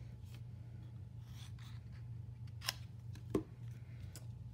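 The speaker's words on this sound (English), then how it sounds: "So we're going to put two pieces of cardstock together so we can fussy cut them at the same time." Scissors fussy cutting through two stacked pieces of cardstock, with faint, sparse snips and a couple of sharper cuts over a low steady room hum.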